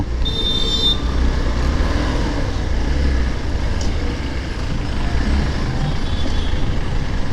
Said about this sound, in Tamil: சரியான டிராஃபிக் ஆகும் ஏன்னா இது ஒன் வே மாரி இருக்குது